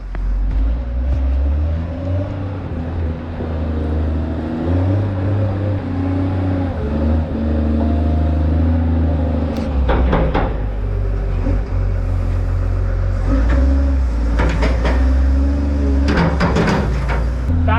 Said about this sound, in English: since we're shaking the bales out with the wheel loader for these calves